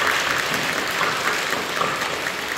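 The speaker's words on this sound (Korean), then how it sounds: "우리 박수를 격려해 주시죠." A church congregation applauds during a Pentecost worship service, a steady wash of many hands clapping at full strength throughout, with no speech over it.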